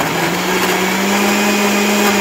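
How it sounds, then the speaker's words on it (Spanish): A kitchen blender grinding tomatoes, onion, garlic and water into a purée, a loud, close, steady motor whine with a constant pitch and no pauses or voices. "le voy a vaciar ahorita el jitomate que molí en la licuadora"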